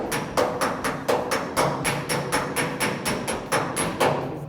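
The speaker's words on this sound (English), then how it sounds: "All I'm doing is all the little dings, everything that was in there that I had to hammer and dolly out" A hammer strikes sheet metal against a dolly, straightening small dings in a car body during restoration of a Hemi car. The blows are loud, close, metallic and evenly paced, landing about three times per second in a steady rhythm.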